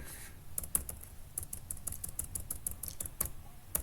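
Fast keystrokes clatter on a computer keyboard while a YouTube video title is edited: a dense, close run of sharp clicks in uneven bursts, with no voice over them.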